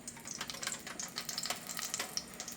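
Oil sizzling and crackling faintly in a pan while cooking lechon paksiw, a steady quiet frying with small irregular pops and no voices.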